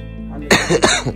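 A person on a mountain trip to Sailung gives a short burst of two or three close, loud coughs that end with a throaty rasp.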